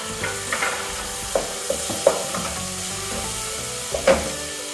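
Chicken with turmeric sizzling in a pan while a utensil stirs and scrapes it, giving soft frying hiss with scattered clacks and scrapes, close up and with no talking.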